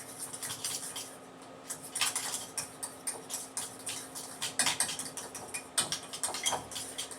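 A spoon stirs salt and pepper into a mixture in a mixing bowl, making a steady run of close clicks, taps and scrapes with no talking.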